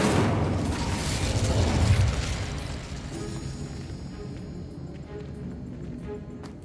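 A fire spell cast in the Hogwarts Legacy video game: a loud whooshing burst that flares up over the first couple of seconds, then fades into a low, steady rumble of crackling flame.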